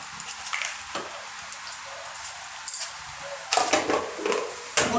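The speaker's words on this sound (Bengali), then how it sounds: "গোটা জিরে ফোড়ন দিচ্ছি" Whole cumin seeds tempering in hot oil, a steady soft sizzle and crackle with occasional clinks and scrapes of a utensil against the pan.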